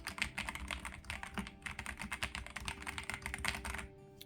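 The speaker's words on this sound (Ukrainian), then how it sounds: "той звук і ті відчуття, які дарує клавіатура при взаємодії з нею" Fast, steady typing on an EPOMAKER Ajazz AK820 Pro mechanical keyboard with linear Flying Fish switches, a soft continuous patter of keystrokes heard close up but fairly quiet, with no talking.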